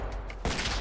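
A quick burst of gunfire in GTA 5 roleplay cracks out abruptly midway through, with no talk.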